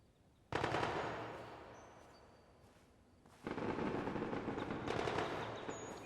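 Short bursts of gunfire from a gun fired in taps in the video game Project Silverfish, two distinct loud volleys separated by a quieter pause, with no talking.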